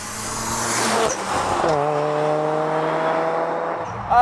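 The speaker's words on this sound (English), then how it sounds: "We're in a Veilside widebody RX-7" A single-turbo Veilside widebody RX-7 engine drones steadily from close by, rising in pitch and then settling into a sustained hum before a brief louder surge at the end.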